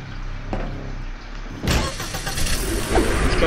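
A Batmobile-style bat car engine in a video game fires up with a sudden roar over a low rumbling idle and then runs steadily and fairly loud.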